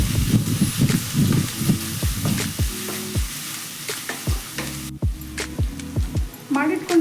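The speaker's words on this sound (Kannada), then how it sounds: "ಈರುಳ್ಳಿ ಸ್ವಲ್ಪ ಫ್ರೈ ಆಗೋದು ಲೇಟೇ ಇನ್ನೊಂದು ಸ್ವಲ್ಪ ಫ್ರೈ ಮಾಡಿಕೊಂಡ್ರೆ ಸಾಕು" Sliced onions fry in a pan for tomato chitranna, with steady sizzling and repeated scraping stir strokes of a spoon in a close, fairly loud rhythm; a short pause breaks the sound midway before the stirring resumes.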